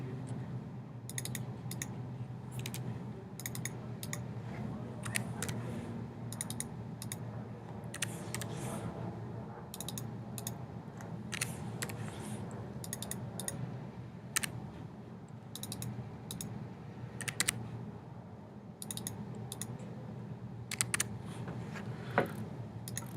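A computer keyboard is typed on in quick irregular bursts of close, crisp key clicks, steady and unaccompanied by speech.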